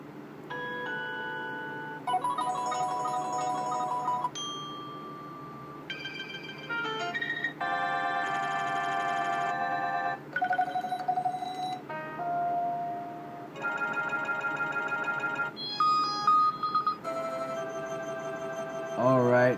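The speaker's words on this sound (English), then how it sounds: "Yeah, we're at ringtones." Several different HTC One smartphone ringtones and alert chimes play one after another, each a short melodic burst, with brief pauses and occasional talk in between.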